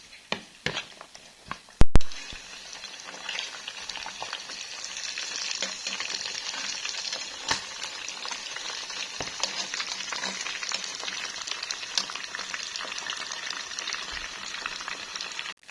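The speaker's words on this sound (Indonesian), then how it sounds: "Serundengnya mau aku goreng" Grated coconut serundeng sizzles and crackles in a pan, a steady hiss of frying broken by a sharp clack near the start and scattered stirring scrapes.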